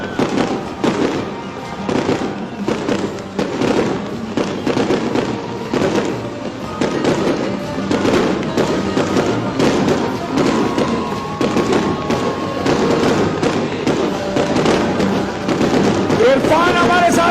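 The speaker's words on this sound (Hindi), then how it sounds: "पहले फायर वर्क हो जाए।" Fireworks at an outdoor political rally in Peshawar burst continuously, a dense crackling barrage of pops and thuds over a crowd's noise, with voices audible in the mix.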